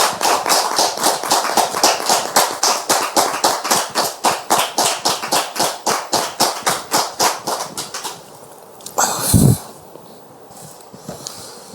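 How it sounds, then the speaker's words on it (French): An audience bursts into steady, rhythmic applause for a guest arriving at a church gathering led by a pastor, the claps fast and even before tapering off, with a brief loud thump near the end. "Public, merci de recevoir le frère en question sous vos applaudissements"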